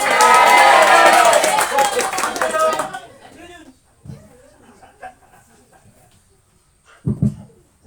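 An audience claps and cheers loudly for a performer at a stage show for about three seconds. The noise then cuts off, leaving a quiet room where a single voice begins speaking.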